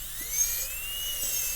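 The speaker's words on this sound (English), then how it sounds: "drill the holes the way we always do" A high-speed dental handpiece whines steadily as it drills holes into a tooth for a Class II slot preparation, a continuous shrill tone with slight pitch shifts, close and alone.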